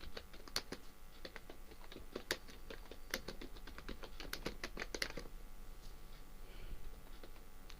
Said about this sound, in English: then type from the keyboard.